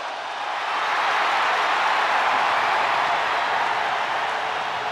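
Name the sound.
crowd ovation in WWE 2K23 video game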